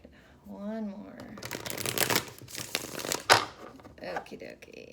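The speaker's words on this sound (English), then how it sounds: "Let me give these a few more shuffles" Tarot cards being shuffled several times by hand, crisp riffling and papery crinkles up close. A brief vocal sound comes early on.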